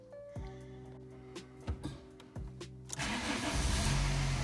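A VW Golf engine cranks over with a few rhythmic starter churns and sputters, then catches and settles into a loud, steady running roar close by, with no talk.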